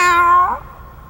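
A single cat's meow, loud and close, with a clear harmonic tone that bends upward and then fades out, and no voices underneath it.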